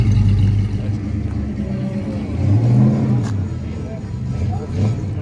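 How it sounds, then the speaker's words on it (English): A 1967 Pontiac GTO with a 4-speed rolls in at a truck show in Tucson, its engine giving a low, steady rumble that swells slightly as it nears, with no talk. "got a nice looking GTO 67 rolling in with a 4-speed"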